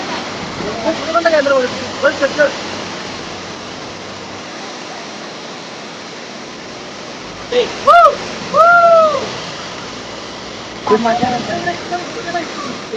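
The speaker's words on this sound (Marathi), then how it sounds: "पाणी जोरदार वाहतो" Constant broadband rush of strongly flowing water at Veer perennial waterfall fills the background while someone speaks in short bursts over it.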